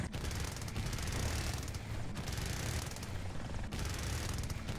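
Quad 792 rotary cannons fire in the video game Kings of Battle, loud sustained bursts of rapid automatic fire with brief gaps between volleys.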